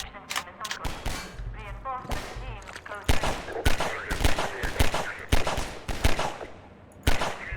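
Half-Life 2 combat in a canal-side raid by Combine forces: sharp, loud gunshots and bursts crack in irregular clusters, some close and some echoing, with a voice talking intermittently underneath.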